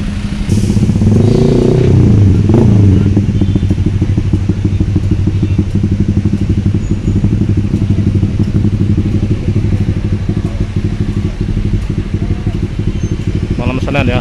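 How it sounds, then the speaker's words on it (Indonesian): Dense traffic of motorcycles and cars at the Bakauheni port toll gate on a busy Sunday night, a continuous loud engine drone with revving and clatter throughout. "mulai ramai, padat di kendaraan tol gate."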